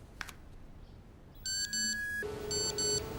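Phone text message alert tones from a TV show about mermaids, a sequence of bright electronic beeps in short repeated bursts, two rising patterns, fairly loud over quiet background.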